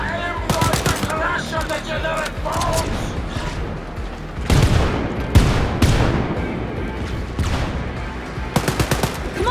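Gunfire in the co-op shooter Wolfenstein: Youngblood, with rapid automatic bursts and heavy booming shots that come in loud clusters, broken by brief lulls.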